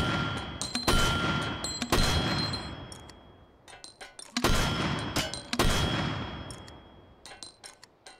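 An M224 mortar fires in the video game Hot Dogs, Horseshoes and Hand Grenades: four loud, sharp launch blasts with metallic clanks, each trailing off in a long ringing decay, plus smaller clicks of handling between shots.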